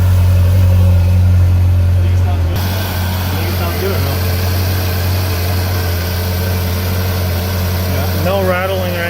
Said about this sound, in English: Regular cold start.